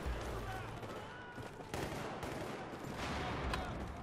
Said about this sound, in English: I was getting shot up.